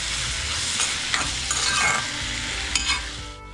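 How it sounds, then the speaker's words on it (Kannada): Tomatoes fry in a pan for chole masala pulav, a loud continuous sizzle with repeated scraping strokes of a spoon stirring through them, close by and without talk. "ಇದರಲ್ಲೇ ಫ್ರೈ ಮಾಡೋಣ ಅಂತೆ"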